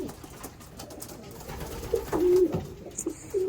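Pet pigeon-type birds, one hen sitting on a fake egg, give soft low coos, a short call near the middle and another at the end, over quiet room background with no speech.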